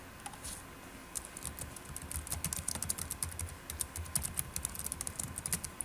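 Quiet, close typing on a computer keyboard as a folder title is entered, a rapid irregular patter of key clicks that grows denser toward the end, with no voices.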